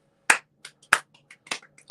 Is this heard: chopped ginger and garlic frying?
no